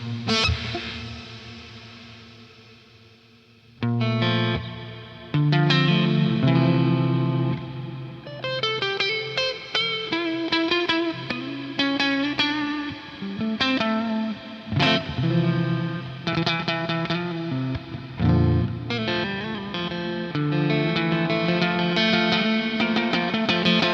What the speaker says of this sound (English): A big, long reverb sound.